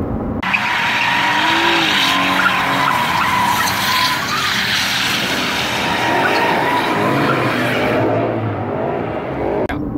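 A car doing burnouts, tires squealing and skidding loudly and continuously for about eight seconds, with a steady engine roar underneath and the sound cutting off near the end.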